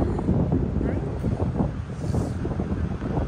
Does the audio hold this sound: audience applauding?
no